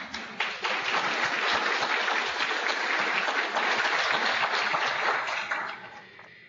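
A fourth-grade class of elementary students claps together in their classroom, a dense, steady round of applause that swells quickly and tapers off near the end, with no talking over it.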